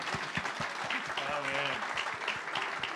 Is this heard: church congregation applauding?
yes